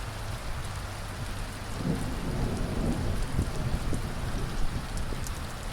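Thunder rumbles low and steady beneath heavy rain drumming on surfaces during a thunderstorm, a continuous wash of rainfall with the deep rolling swelling slightly midway before easing.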